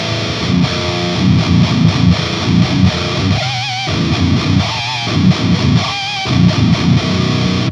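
Heavily distorted electric guitar in a nasty, slimy slam tone, playing loud, chugging low riffs with choppy stops and brief pitch-bending squeals, continuous and up front with no voices.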